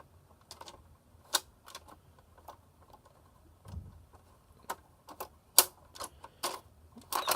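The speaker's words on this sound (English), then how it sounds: "I'm able to load and unload the tape with no problem." A Samsung VCR mechanism loads and unloads a tape, giving sparse mechanical clicks and clacks with a faint low motor whir, close and fairly quiet, with no talking.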